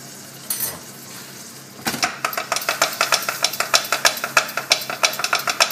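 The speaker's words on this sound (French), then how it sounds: "On fait fondre notre beurre." A spatula scrapes and taps in a pan as butter melts, soft at first, then a fast, steady run of close metallic stirring strokes with no talk.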